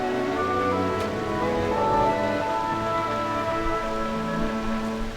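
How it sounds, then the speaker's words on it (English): Heavy rain in the Final Fantasy Brave Exvius game world, a steady dense hiss of downpour with no break, set under a soft sustained musical tone throughout. "Why must it rain so heavily?"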